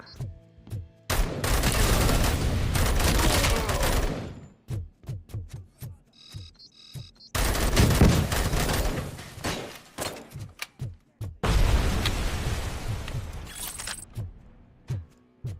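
Grenade explosions in RoboCop Rogue City, three long loud blasts of roaring noise separated by short gaps filled with scattered thumps and clatter.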